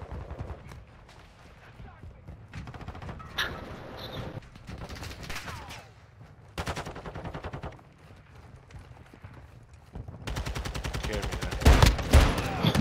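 Desert Eagle pistol fire in Call of Duty Modern Warfare 2 rings out as sharp, loud shots in uneven clusters, with other gunfire, game noise and a denser burst near the end.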